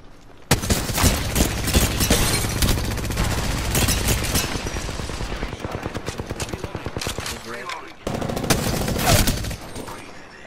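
Rapid automatic gunfire from an Apex Legends match, a Devotion light machine gun firing sustained loud bursts with a brief pause, then a final volley, with a voice speaking over parts of it.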